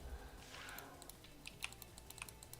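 Quiet typing on a computer keyboard during a Diablo game session, a faint scattered run of light key clicks under a low background hum, with no talk.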